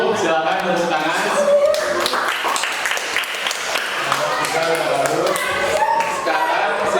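A group of students in a classroom claps together, a dense burst of overlapping hand claps with voices mixed in throughout.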